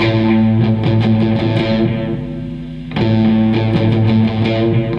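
Distorted electric guitar strums a steady rhythmic pattern of chords, loud and up close, briefly dipping before the strumming resumes.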